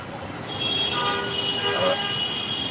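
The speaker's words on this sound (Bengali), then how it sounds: "অযথা এখানে হর্ন দেওয়ার কোনো দরকার নাই" Vehicle horns blare in steady tones amid street traffic near the Karwan Bazar metro station in Dhaka, loud and overlapping above a constant roadway rumble.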